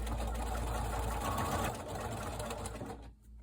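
Sewing machine running steadily as it stitches along the top of a fabric pocket, a continuous close mechanical whir that carries for about three seconds, then stops abruptly.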